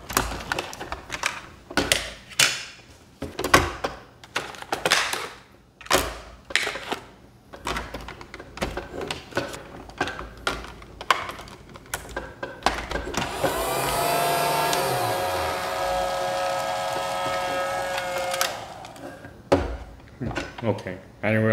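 A battery-powered toy Dyson vacuum cleaner whirs on briefly amid clicking and clattering plastic handling sounds, its motor rising to a loud steady whine, then cutting off as the tapping resumes; a voice speaks at times.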